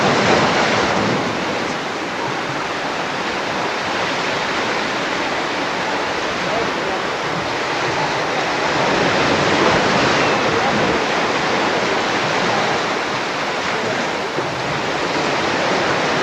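Surf breaks steadily along a Cancun beach, a continuous broadband wash of waves with gusty wind buffeting the microphone, loud and close throughout with no pause.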